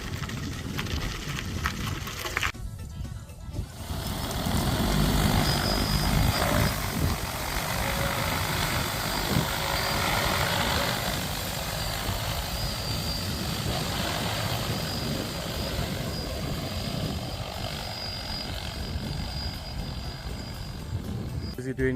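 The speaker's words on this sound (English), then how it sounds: "Busy doing crop spraying with that massive drone." A massive crop-spraying drone works over large rice fields, a loud continuous rotor drone and engine-like roar that stays steady throughout, with wind buffeting and some talk underneath.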